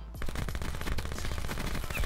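VMP submachine gun firing in a video game, a dense, continuous burst of rapid automatic shots at steady high volume throughout.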